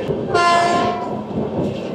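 The Amrit Bharat Express runs between Tenali Junction and Chirala. A loud, sustained horn blast sounds over the steady rumble and rattle of the moving carriages, heard close from on board.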